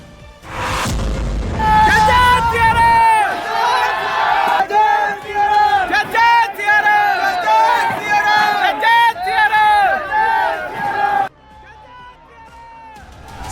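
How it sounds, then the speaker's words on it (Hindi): An angry mob armed with sticks and clubs storms a shop in Muzaffarpur, a dense crowd roaring and chanting in loud rhythmic waves with shouts and thuds, then fading to a thinner murmur near the end. "उग्र भीड़ जय श्री राम के जयकारे के साथ देखिए इस दुकान पर कहर बनकर टूटी है"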